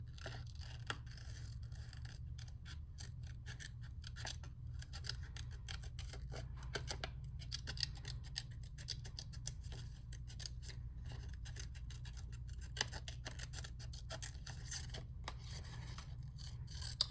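Scissors snip through paper for an art collage in quiet, rapid, close cuts, repeated steadily throughout against a faint low background hum.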